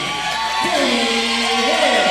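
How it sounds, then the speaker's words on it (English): A crowd at a Southern Virginia University women's basketball game against St. Mary's applauds steadily as a player checks in, with a rising whoop and cheering carried over the broad clapping. "getting a big hand from the crowd"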